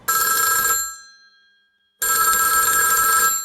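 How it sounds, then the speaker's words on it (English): An old-fashioned telephone bell rings in a 1940s noir drama scene, two loud jangling rings separated by a second of silence, close and alone. "when the phone rang"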